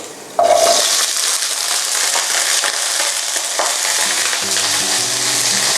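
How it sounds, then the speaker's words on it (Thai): Cabbage hitting hot oil in a pan bursts into a loud, steady sizzle and crackle, with occasional stirring clatter, close up and without talk. "มันมีน้ำอยู่ในผักนะครับ นั่นคือสาเหตุว่าทำไมมันถึง ซูซ่าขนาดนี้"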